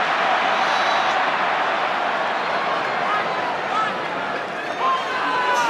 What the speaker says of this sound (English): Now the crowd will get interested here.